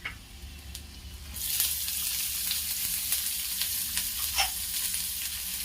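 Chopped onion sautéing in a pan while making mung dal chilla sizzles steadily from near, joined by faint stirring scrapes, after a quieter start.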